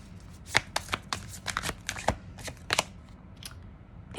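Tarot cards being drawn and handled: a quick series of crisp, dry card slaps and flicks, close and fairly loud, in irregular bursts with short pauses between them.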